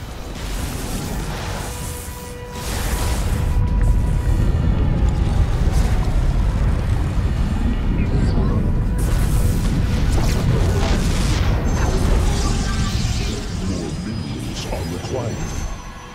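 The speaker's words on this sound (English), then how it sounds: "The lava surge is back, viewers. Let's watch as the low ground is engulfed in molten rock and fire." In the StarCraft II co-op game, a lava surge engulfs the low ground, producing a loud, sustained rumbling roar with deep booms, while a voice talks over it.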